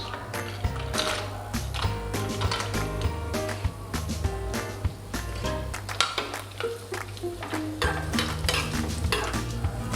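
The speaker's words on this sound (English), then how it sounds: "Next goes in the cashews." Cashews sizzle loudly in hot oil in a pan for lemon rice, with a spoon stirring and clinking against the metal throughout, up close and without talk.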